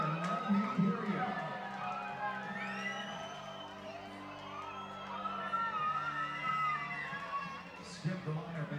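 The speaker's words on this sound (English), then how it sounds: "stand up, cheer, and let me hear you" A minor-league baseball crowd at an Evansville Otters game cheers, whoops and shouts for a t-shirt giveaway, a lively mix of children's and adults' voices with scattered calls over the stadium din.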